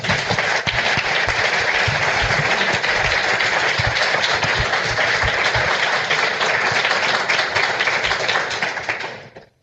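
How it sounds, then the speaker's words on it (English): An audience at a Dragon Con panel on marketing for authors breaks into loud, dense applause that holds steady for several seconds, with occasional sharp claps standing out, then fades quickly at the end. "I want to give a round of applause for our panelists"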